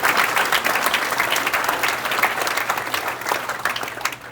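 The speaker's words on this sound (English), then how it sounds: "So please, a round of applause for Nick," Steady audience applause at a baseball hall of fame induction ceremony, a dense wash of many hands clapping that holds evenly for several seconds without voices rising above it.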